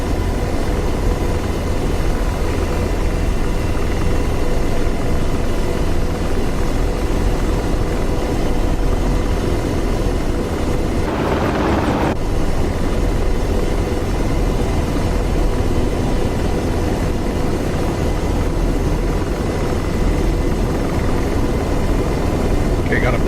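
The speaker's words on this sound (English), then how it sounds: "that other helicopter he took off, so he won't be a factor" A helicopter lifts off and flies in the DCS World combat flight simulator, a steady, loud rotor and engine drone that continues without a break throughout.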